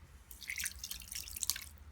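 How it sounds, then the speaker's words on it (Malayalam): Water trickles and drips in a kitchen as it is poured into semolina unniyappam batter. The splashes are faint and close, in short uneven bursts, with no talk. "അപ്പോൾ ആ ഒഴിച്ച വെള്ളം പോരാണ്ട് വന്നിട്ട് വീണ്ടും ഒഴിക്കുകയാണ് ഞാൻ"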